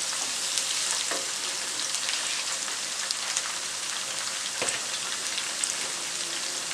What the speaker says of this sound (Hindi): अब हरी मिर्चें डाल दें। चंद सेकंड के लिए इनको फ्राई करें।